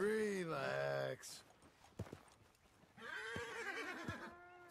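A horse in Red Dead Redemption 2 whinnies loudly, goes quiet amid a few clip-clop hoof sounds, then gives a second long, shaky neigh.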